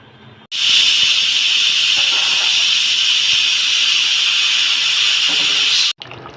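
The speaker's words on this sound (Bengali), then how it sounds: "প্রেশার কুকারে ঢাকনা বন্ধ করে পাঁচ ছয়টা সিটি দিয়ে নিয়েছে" A pressure cooker of beef with water for gravy lets out a loud, continuous high-pitched steam whistle lasting about five seconds, starting and stopping sharply.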